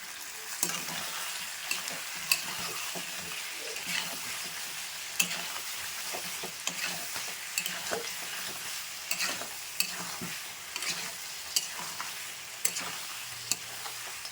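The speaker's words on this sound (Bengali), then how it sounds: "এর মধ্যে আলু দিয়ে দেখো ভালো করে আরেকটুখানি কষিয়ে নেবো" Potatoes being sautéed with spices in a pan, a soft steady sizzle under frequent rhythmic spatula scrapes and knocks against the pan, close and fairly quiet, with no talking.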